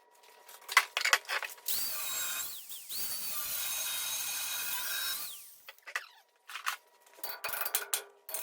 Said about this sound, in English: While I'm grinding this at ludicrous speed